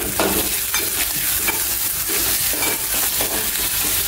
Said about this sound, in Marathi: आता आपल्याला टोमॅटो घालायचं आहे।